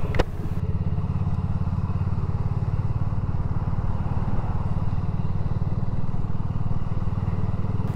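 A motorcycle rides out along narrow village streets, its engine droning steadily and loudly from start to finish with no talk over it.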